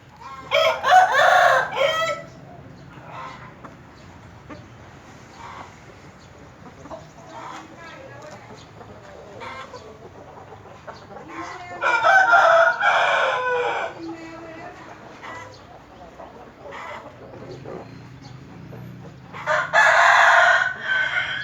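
A rooster crows repeatedly at a rural Thai home, three loud calls spaced through the clip over a quiet outdoor background, with someone talking faintly in between.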